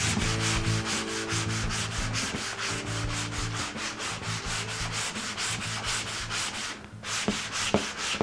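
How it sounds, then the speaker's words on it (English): Hand-sanding the finish on an ES 335-style guitar body: steady, rhythmic back-and-forth rasping strokes, close and continuous, with no talking. "And I'm just trying to make sure I sand into lighter spots."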